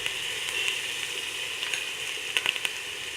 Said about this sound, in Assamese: আৰু এতিয়া আমি জিৰা ধনিয়া আৰু জালুকৰ পেষ্টটো দি দিম